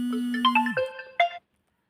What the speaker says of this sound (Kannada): ಸ್ನೇಹಿತರೆ ಫೋನ್ ಬಂದಿತ್ತು ಸಾರಿ